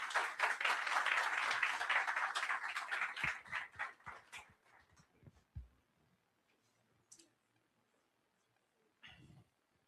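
An audience at a Spiritist conference applauds the speaker, with dense clapping that thins out after about four seconds into scattered claps and a few stray knocks, fairly distant.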